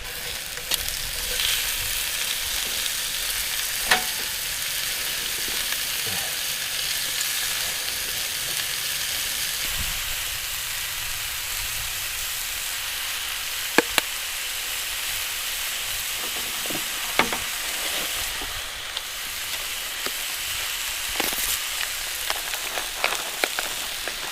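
Steak searing in a pan at a winter tent campsite in Ohio's Wayne National Forest, a steady hissing sizzle throughout with occasional sharp clicks and bumps of cookware.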